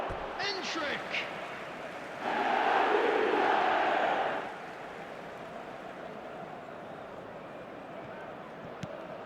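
Stadium crowd in the eFootball video game during a Real Madrid match, swelling into a loud roar for about two seconds before settling back to a steady background murmur.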